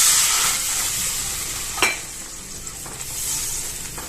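Water is poured into a hot pan of sautéed fenugreek leaves and sets off a loud sizzle that hisses and then steams down. A sharp burst comes partway through, and no one speaks.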